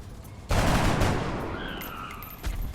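A single loud gunshot in the XCOM video game, a sharp close blast followed by a long decaying roar and a faint metallic whine, with a second impact near the end.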